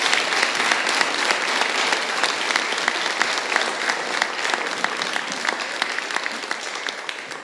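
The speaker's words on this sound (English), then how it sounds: "Do you think we can give them all a big round of applause at this point?" A church congregation applauds during a baptism service, steady dense clapping filling the room evenly from start to end, with no voices rising above it.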